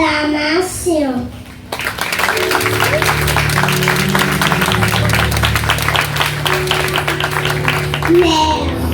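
A crowd at a graduation ceremony claps and cheers for several seconds in a dense, steady wash of sound, with music tones and voices running underneath.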